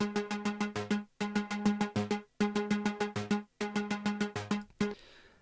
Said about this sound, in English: I sent through my actual Jupiter 6 that I have at the other studio.